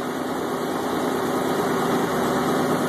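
A Mercruiser 888 marine engine with an EFI conversion in a 1975 Marlin Runabout idles steadily just after its first startup, a close, even, continuous drone without talking.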